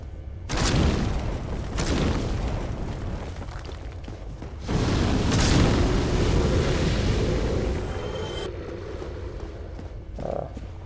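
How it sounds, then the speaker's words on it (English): Loud roaring fire blasts in Dark Souls, deep whooshing bursts of flame that swell and fade repeatedly with heavy low rumble, with no talk over them. "So now fire sounds are really loud."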